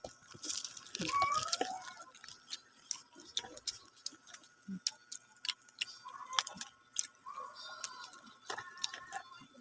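Crunchy food being chewed close up in a quiet room, with sharp irregular crunches and bites scattered throughout, a few soft murmurs between them.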